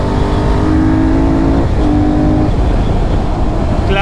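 Benelli Leoncino 800 and 500 motorcycle engines rev loudly and steadily close by on a road ride, with a sustained tonal drone that dips briefly mid-clip and then rises again.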